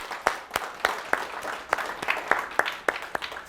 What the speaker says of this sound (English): let's give all of ourselves a round of applause for having submitted